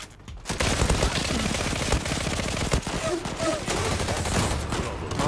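Khaybar rifle in the online shooter Zula fires in rapid sustained bursts, a dense continuous rattle of close gunfire that runs nearly the whole stretch with only brief gaps.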